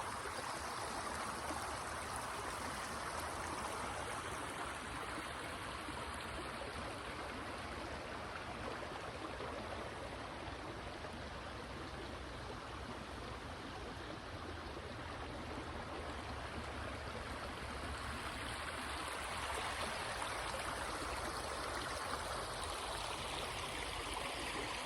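Steady flowing stream water, a continuous broadband rush and babble with no break, moderately close and alone, outdoors in a green space.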